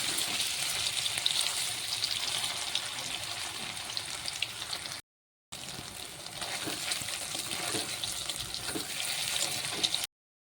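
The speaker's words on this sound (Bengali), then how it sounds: "পনিরটাকে ভালো করে লাল লাল করে ভেজে নেব।" Paneer pieces fry in hot oil in a wok, giving a steady bright sizzle with bubbly crackle, continuous and close, broken by one short silent gap.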